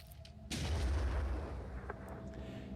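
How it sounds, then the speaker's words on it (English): Grenade explosion in the video game Phoenix Point, a sudden deep boom that rolls out into a long, fading rumble, loud and alone. "Here comes a grenade."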